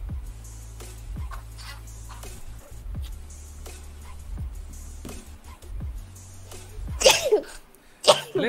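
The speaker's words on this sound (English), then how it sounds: "I always sneeze in threes" Two quick sneezes burst out near the end, one after the other, over a low steady hum inside a car, with faint indoor sounds earlier.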